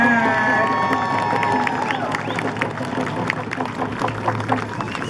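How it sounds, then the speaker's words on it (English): Crowd on shore cheers and claps for canoes arriving at a tribal canoe journey landing at Lummi; continuous outdoor crowd noise with scattered claps and shouts, while a voice over loudspeaker carries across the top. "you guys can give them a bigger round of applause than that"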